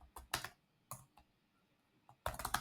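Quick bursts of typing on a computer keyboard, irregular clusters of crisp close key clicks separated by short pauses, with no voices.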